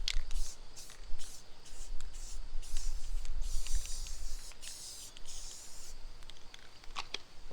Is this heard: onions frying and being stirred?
no